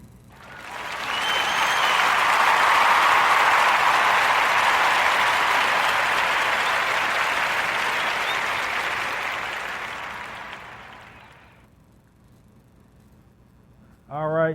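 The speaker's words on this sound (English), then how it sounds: "Join me into giving our brother a warm Narrative Podcast round of applause for Mr." A podcast audience applauds, a broad wash of clapping that swells quickly, holds steady for several seconds, then fades out before a voice briefly begins at the end.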